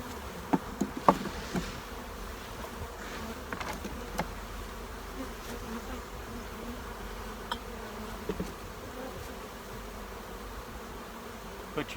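A honeybee swarm buzzes densely around a hive box as it is shaken in, a constant close insect drone with scattered light knocks and taps of frames and wood.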